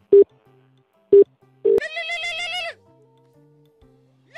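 A phone ringtone: a few short electronic beeps followed by a bright warbling ring lasting about a second, loud and close.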